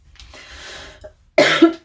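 A single person gives a sharp, loud cough close by, a short burst after a quieter stretch of indoor sound.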